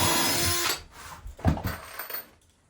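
A power drill pre-drills a hole in wood for the large screws on a sauna bench. It starts with a loud burst of grinding and then drops into a few softer, intermittent bites into the board before falling quiet.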